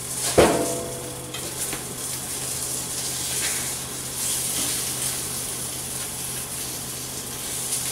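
Lemon ricotta pancakes sizzling in a hot skillet, a steady soft crackling fry with a brief clatter of a spatula or pan near the start, no talk.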